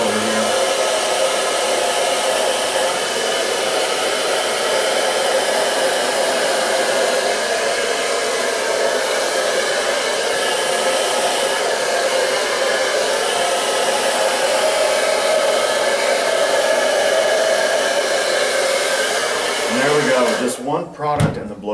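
A blow dryer runs on hair being styled with a boar bristle brush, giving a steady, loud, close whir that holds for about twenty seconds before shutting off with some handling noise.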